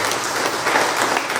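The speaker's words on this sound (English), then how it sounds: "give them one more round of applause for all of the acts that came up there" Applause from an audience for performers at a community event on Chicago's west side, a dense steady clatter of many hands heard in full and fairly close, with no talk over it.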